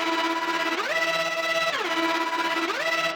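Synth lead in a progressive house style, its oscillator volume modulated fast so the buzzy, harmonically rich tone pulses steadily up and down while the pitch glides between two levels, loud and alone.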